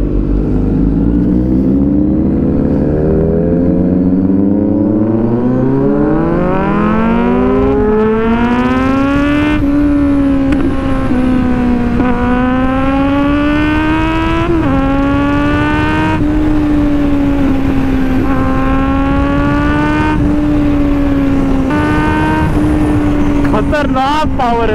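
Several loud sport motorcycles, including a Kawasaki Z900 and a BMW S1000RR, ride together, their engines climbing through repeated rising revs and gear changes, close and continuous for the whole stretch.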